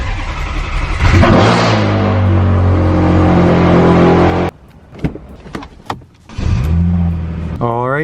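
A Mercedes C300 with a six-speed manual running and revving loudly up close, with a sharp rev rise, sustained drone, brief drop to near quiet with a few blips, then revving again.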